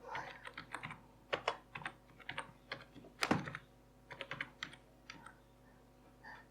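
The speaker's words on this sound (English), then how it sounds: "then type in the password." Fingers type a password on a computer keyboard in a series of quick, irregular key clicks. The tapping comes in short bursts with one sharper, louder keystroke partway through, close and moderately quiet, and no voices are heard.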